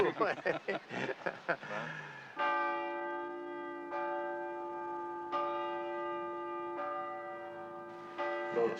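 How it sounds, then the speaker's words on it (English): Church bells ring with long sustained tones, struck several times in a slow rhythm, with people talking briefly at the start and end. "Those bells that we're hearing"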